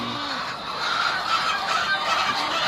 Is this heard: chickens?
yes